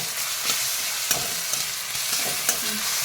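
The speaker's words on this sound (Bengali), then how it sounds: "আলুগুলোর সাথে পেঁয়াজগুলো হালকা একটু নেড়ে নেব ভালো করে একটু কষিয়ে নেব পেঁয়াজের সাথে" Onions browning with a little sugar fry in a pan for a shol fish kaliya. They hiss steadily and up close while a spoon scrapes through them in a few distinct strokes, with no speech.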